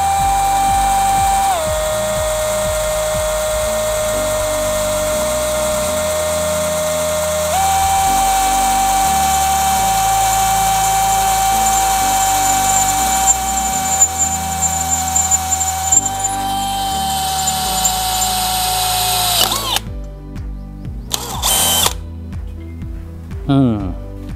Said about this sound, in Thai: เราลองเจาะสักหน่อยก่อน